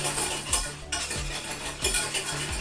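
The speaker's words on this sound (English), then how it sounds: "And keep stirring." A spoon stirs keto hot chocolate in a metal pot, scraping and clinking against the sides in a steady rhythm of repeated strokes, close and fairly loud, with no talking.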